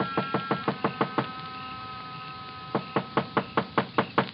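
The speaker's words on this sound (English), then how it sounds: "I knocked again." Knuckles rap on a wooden door in an old-time radio drama, a quick run of about eight sharp knocks, a pause, then another even burst of knocks, close and crisp.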